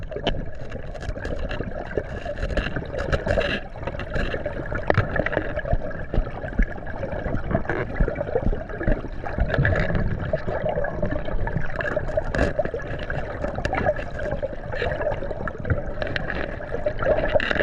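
A river flows steadily in California's Mother Lode gold country, a continuous broadband rush of moving water close by with no talk over it.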